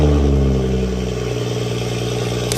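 A BMW 140i engine revs loudly and close by in a continuous, throaty drone whose pitch slides down and then holds steady, with no voices.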